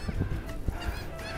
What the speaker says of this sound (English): And there are seagulls flying.